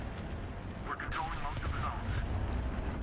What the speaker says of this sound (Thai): BF ทิ้งระเบิดสังหารไป